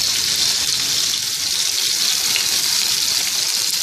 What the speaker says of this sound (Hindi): इसकी साइडें चेंज करते हुए अच्छी तरह से हर तरफ से फ्राई कर लेंगे